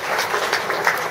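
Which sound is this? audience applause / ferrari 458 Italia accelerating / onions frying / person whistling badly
audience applause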